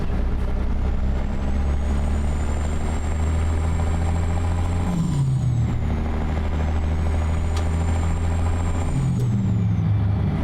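A Caterpillar 3406B truck engine in American Truck Simulator drones loud and steady with a deep rumble, throttle rising and falling with a high whine sweeping across, alone without talk.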